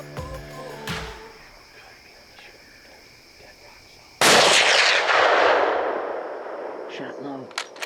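A single loud gunshot rings out at a doe during a deer hunt, cracking sharply and then echoing and decaying for several seconds after quiet outdoor ambience with faint whispering beforehand.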